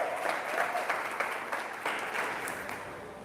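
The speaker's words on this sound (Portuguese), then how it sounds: "Pode aplaudir," A church congregation applauds steadily, a dense wash of clapping holding at an even level throughout.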